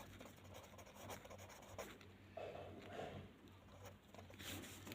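A pen writing on paper while working a class 9 math exercise, giving faint, close scratchy strokes in short irregular bursts over a quiet background.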